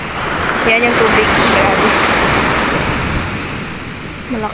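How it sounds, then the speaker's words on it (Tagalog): Strong waves break on the coast near Iloilo on a windy day, giving a loud continuous roar of surf mixed with gusty wind noise on the microphone, with a brief voice heard early on. "Ayan yung tubig."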